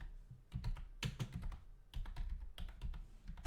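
Quick bursts of typing on a computer keyboard, clusters of close, crisp key taps with short pauses between them, fairly quiet and without speech.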